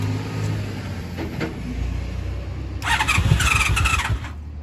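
Engine of a 1996 Honda Magna VF750CD motorcycle with choke on, grinding and cranking on a weak battery before catching into a rough, uneven running rattle with a whining squeal, close and fairly loud.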